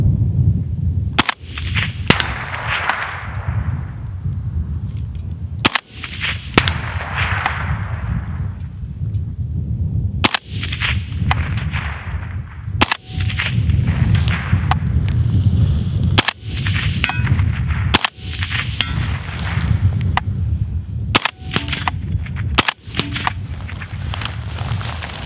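Sharp, loud rifle shots from a PTR 32 chambered in 7.62x39 ring out outdoors at a steady spaced pace, about nine or ten reports across the stretch over a constant windy background, with no talking.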